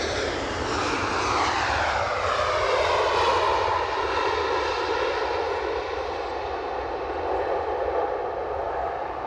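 A JetBlue airliner arriving from Boston at Edinburgh Airport, its engines a loud, sustained roar that swells and slowly shifts in pitch as it passes nearby.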